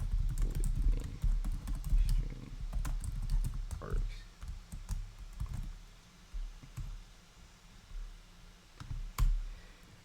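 Rapid typing on a computer keyboard while Java code is written, the clicks coming in quick irregular bursts, close and fairly quiet, busiest in the first few seconds and then more scattered.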